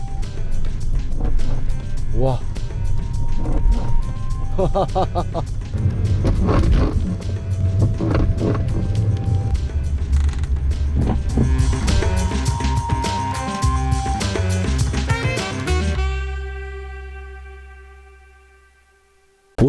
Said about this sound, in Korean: 차 자체 내에서 찌걱찌걱 소음이 심하게 발생합니다.